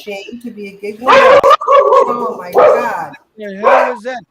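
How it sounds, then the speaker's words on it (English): A pet dog that has wandered into a house barks several times in quick bursts, close and loud, overlapping with people talking. "That's my dog barking because my dog walked in the I house."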